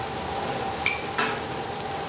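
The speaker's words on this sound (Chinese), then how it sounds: "我们干贝大概煎7分熟就好" Scallops sear in a hot pan, a steady soft sizzle with a couple of brief scraping or clinking sounds from a utensil partway through.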